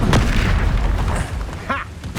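Loud blast from the Exploso spell in Hogwarts Legacy, a deep booming burst with rumbling debris, followed by a second smaller pop near the end, all up close with game sounds mixed in.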